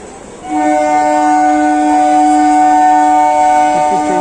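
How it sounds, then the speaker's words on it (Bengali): A train at Sealdah railway station sounds a loud, sustained horn with steady harmonic tones that cut in after a brief moment and hold to the end, over station background noise. "ট্রেন"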